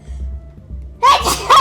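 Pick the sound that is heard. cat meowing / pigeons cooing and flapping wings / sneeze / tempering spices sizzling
sneeze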